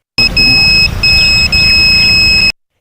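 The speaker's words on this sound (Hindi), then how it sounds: "चिप के साथ जुड़ा अलार्म अपने आप बजने लगता है" A proximity alarm on a wearable sensor chip device sounds as someone comes within two yards. It gives a loud, continuous high electronic tone with brief breaks, close and alone.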